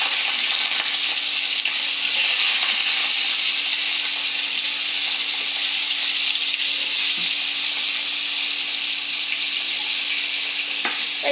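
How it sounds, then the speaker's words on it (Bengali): Rohu fish belly pieces fry in a hot pan in a village kitchen, giving a loud, steady, close sizzle that runs unbroken with no one speaking. "এই যে মাছগুলো আবার ভাজা হোক"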